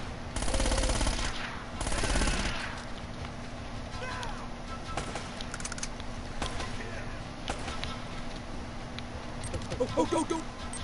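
Bursts of automatic gunfire and scattered shots in the Uncharted video game, loudest in two early bursts and then lighter, with talking over the game audio.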